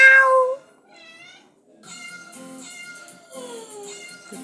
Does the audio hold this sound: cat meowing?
yes